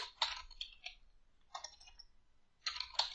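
Typing on a computer keyboard, heard as three short, quiet clusters of key clicks separated by brief silences, with no voice.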